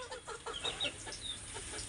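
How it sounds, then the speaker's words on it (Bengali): A rooster crowing among farm fowl on a small poultry farm, a brief mid-distance crow over a background of clucking chickens and general barnyard noise. "মোরগ বাগ দেয়।"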